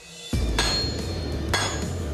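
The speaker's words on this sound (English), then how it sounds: "My secret weapon for moving this metal, an 8-pound hammer." An 8-pound hammer strikes a car leaf spring blade being forged, landing two loud, ringing metallic blows about a second apart, each leaving a sustained ring, with no talk.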